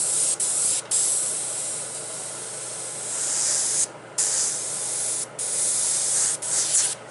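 A Timbertech airbrush sprays paint in sustained hissing bursts, each lasting a second or more, broken by brief clean gaps as the trigger is released, close and loud with no voices.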